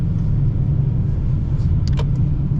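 Cabin of a 2025 Mercedes S580 under smooth acceleration, a steady low engine and road rumble heard from inside, with a couple of faint brief clicks.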